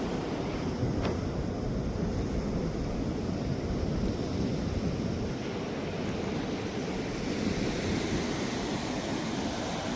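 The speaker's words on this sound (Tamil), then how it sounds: "அந்த கடல் அலை வந்து திரும்பிட்டு இங்கே போகுது" Stormy sea waves surge and wash continuously along the shore at Mullaitivu during a cyclone, a loud, broad roar mixed with strong wind buffeting, with no talk.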